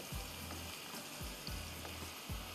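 Steady sizzling and crackling of ginger garlic paste frying in hot oil for Banarasi pulao, with a few low scraping stirs at intervals.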